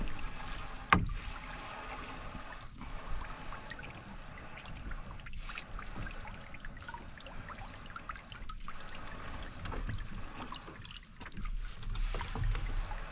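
A fishing boat's engine drones steadily up close, with water sloshing and splashing around the hull throughout.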